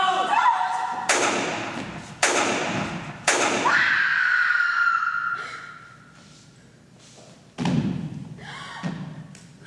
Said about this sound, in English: Three gunshots rang out.